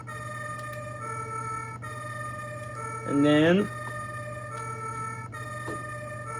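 Toy siren from a Carrera Digital slot car ambulance: a short electronic warbling wail of under a second, standing over a steady hum with faint beeps, while a voice speaks briefly.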